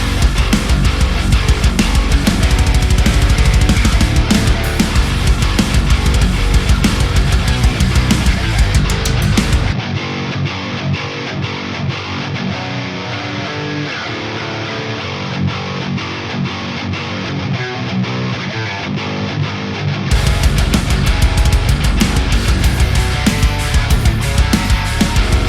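Heavy, distorted low-tuned metal guitar riffing through a Line 6 Helix amp modeler, loud and chugging, with a stretch in the middle where the tone drops to a thinner, filtered sound before the full crunch returns.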